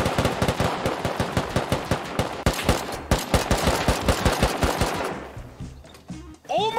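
Rapid automatic gunfire in the survival game Rust, loud and close, a dense continuous stream of shots for about five seconds that thins out near the end, with a brief voice breaking in at the close.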